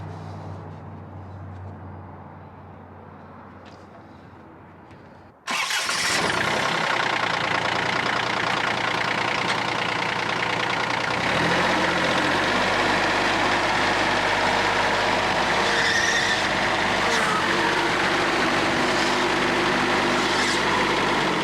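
A lawn tractor engine idling quietly, then revving up loudly and running steadily as the tractor drives up over a mid mount mower deck, holding a strong even drone.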